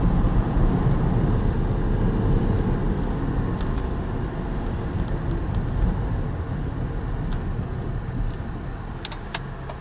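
Cabin sound of a 2005 Cadillac CTS driving, a steady low road and engine drone with slight shifts in level as the transmission changes gears, and faint clicks near the end.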